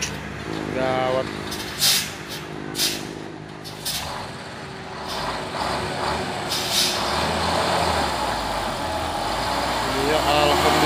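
A tanker truck on an uphill road, its engine rumbling and revving with sharp hissing bursts of air brakes, while people talk nearby over the steady drone.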